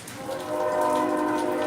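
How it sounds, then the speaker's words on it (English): A train horn sounds steadily and fairly loud during a thunderstorm, a sustained multi-tone blast layered over light rain patter, holding strong throughout without any voices. "There's the train."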